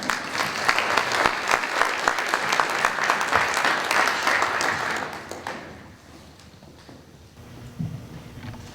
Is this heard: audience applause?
yes